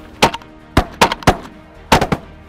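Revolution Arms shotguns loaded with Score ammunition fire at geese during a waterfowl hunt: about eight loud, close blasts in quick clusters of two and three, with no talking.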